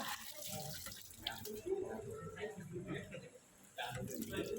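Water from a tap runs and splashes as a Thai flower garland is rinsed, a close steady flow broken by a brief pause, with someone speaking over it.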